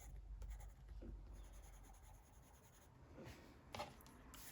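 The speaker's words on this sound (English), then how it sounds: "you can hear the pencil." Soft scratchy strokes of a coloured pencil shading leaves on paper, faint and close, with short rubbing passes and brief pauses, no talking.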